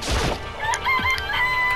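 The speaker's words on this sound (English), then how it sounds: "Look at all the chickens." Chickens cluck and crow in the video game Danganronpa: Trigger Happy Havoc, a short burst of close, overlapping bird calls over a steady background.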